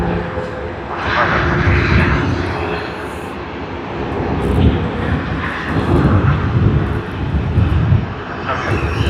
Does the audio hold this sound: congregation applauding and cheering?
no